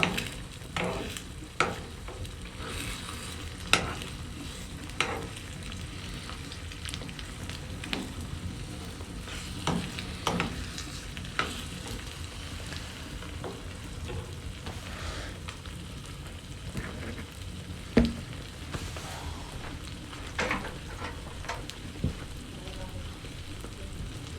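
Eggs frying in a pan for a village breakfast give a faint, continuous crackle, with scattered light clicks of a utensil stirring them at an unhurried pace.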